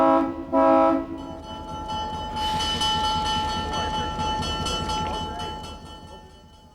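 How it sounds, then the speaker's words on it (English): A train gives two short horn blasts, then a long sustained whistle-like tone rings out over a deep rolling rumble of rail cars, loud and nearby before fading slightly. "the train made an unfamiliar noise"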